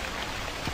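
Steady rain in a horror video game, hissing across a broad band, falling continuously and evenly with no voices.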